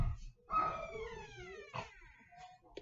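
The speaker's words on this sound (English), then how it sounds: "My dogs are barking." Several pet dogs bark and howl indoors in quick, uneven bursts at close range, with a long drawn-out howling tone running through the middle.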